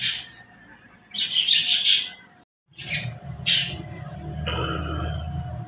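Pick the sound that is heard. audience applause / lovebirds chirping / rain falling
lovebirds chirping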